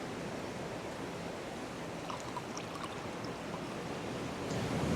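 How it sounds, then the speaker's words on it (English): Brining solution pours onto raw shrimp while shrimp scampi is made, a steady, close rushing splash that runs without pause and swells a little louder at the very end. "I'm just going to pour out some of this liquid on my shrimp, that brining solution."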